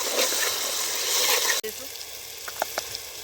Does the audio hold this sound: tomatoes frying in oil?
yes